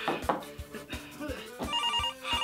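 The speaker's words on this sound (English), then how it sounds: "now the prop phone's ringing" A prop telephone on a film set rings with repeated bright electronic trills, each burst pulsing quickly, moderately loud and close in a quiet room.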